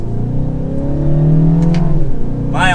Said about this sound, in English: All right, setting off now.